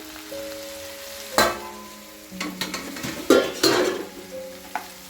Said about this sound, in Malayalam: ഇനി ഇതൊന്ന് ചെറുതായിട്ട് ഒന്ന് വഴറ്റിയെടുക്കുക